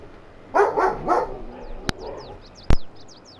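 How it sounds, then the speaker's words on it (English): A dog barks in a few quick bursts at a delivery person arriving, fairly close and loud, followed by a couple of sharp knocks or thuds, with faint bird chirps in the background. "My dog started barking at the delivery guy."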